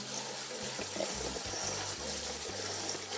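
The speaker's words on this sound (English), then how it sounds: "Now we're gonna rinse them off with cold water." Cold water runs from a kitchen tap over cooked nopales cactus in a steady, faint splashing stream with no talking.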